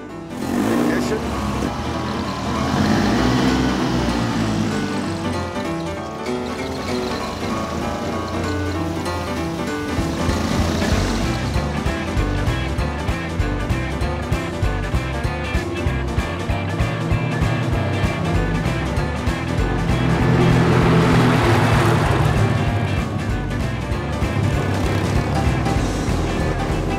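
A vintage Bentley 3-Litre Blower engine runs steadily and loudly throughout, its rough mechanical drone swelling and settling, with people talking over it.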